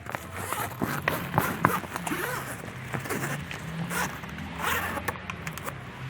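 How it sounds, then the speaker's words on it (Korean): A zipper on a urethane window for a car trunk mosquito net is fastened and pulled up in a series of quick rasping zips, fairly close, with rustling of fabric between pulls. "지퍼를 체결하고 쭉 올려주시면 되겠습니다."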